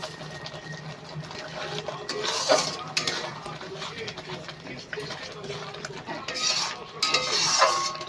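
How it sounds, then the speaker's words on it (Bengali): A spoon scrapes and clinks against a pan while mixed vegetable curry is stirred in Bengali style. The stirring comes in irregular bursts, close and moderately quiet, with a voice audible underneath. "ভালো করে নেড়ে নেব সব একসাথে ভালো করে মিশিয়ে নেব"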